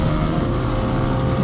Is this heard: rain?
no